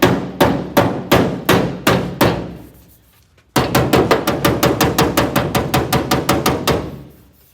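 A body hammer strikes a 1959 Ford Galaxie body panel, first about seven loud, evenly spaced metallic blows, then after a short gap a faster run of around eighteen ringing hits, close and alone.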